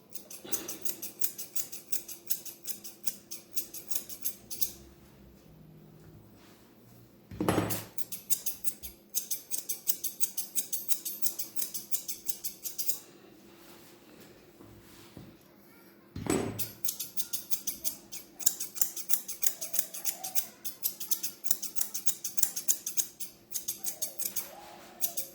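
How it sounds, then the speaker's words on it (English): Grooming shears snip rapidly through a Bichon's coat, with long runs of crisp, rhythmic close-up cuts broken by a couple of pauses and sharp knocks. "I'll just take my shears"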